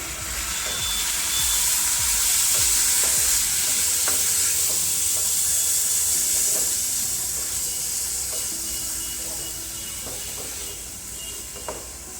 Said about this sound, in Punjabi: ਮਿਕਸ ਕਰਾਂਗੇ ਸ਼ਿਮਲਾ ਮਿਰਚ ਪਾ ਕੇ ਆਪਾਂ ਜ਼ਿਆਦਾ ਭੁੰਨਣਾ ਨਹੀਂ